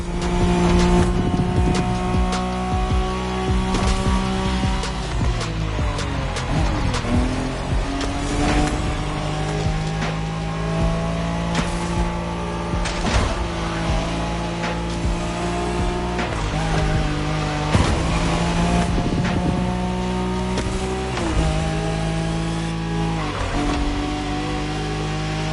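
A Nissan Skyline race car in The Crew roars loudly at high revs, its engine pitch climbing and dropping through gear changes while tires squeal through corners, continuous and close with no voices.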